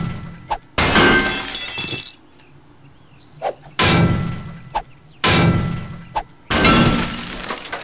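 In the 7 Days to Die video game, an object is smashed for scrap. Four loud, close crashing bursts of breaking and shattering debris are separated by short quiet gaps, each preceded by a brief thud.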